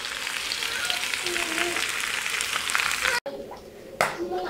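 Chicken escalope fries in a pan with a steady, close sizzle and crackle throughout, briefly interrupted near the end by a clatter as it is handled.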